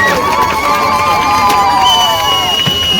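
A lively crowd at an outdoor village drama performance cheers and shouts in welcome of guests, voices overlapping loudly and continuously.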